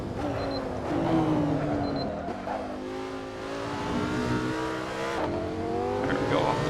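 Lamborghini Sesto Elemento engine in the racing game Assetto Corsa revs and climbs through gears with a loud, sustained howl, shifting pitch up and down while someone talks over it.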